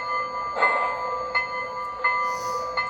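A small electronic bell from the sound decoder of an LGB 2019S model locomotive rings in a steady, repeating pattern of strikes roughly every seven tenths of a second, thin and tinny, with no talking.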